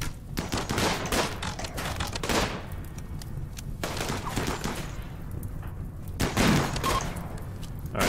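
Turret gunfire in RimWorld as defensive turrets cut down raiding attackers, heard as dense, continuous bursts of rapid shots with louder volleys, with no talking.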